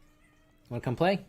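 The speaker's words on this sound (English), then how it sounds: "Oh, that is a cat. Hello, kitty cat." A cat lets out a short, close meow of a few rising and falling syllables in a quiet indoor room, with speech heard over it.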